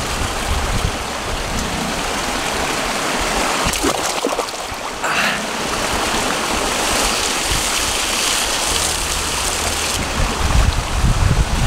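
Water sloshes and splashes steadily in a warm hot spring bath at Rennes-les-Bains, with a brief louder disturbance midway as someone enters, continuous rushing water throughout, no talk.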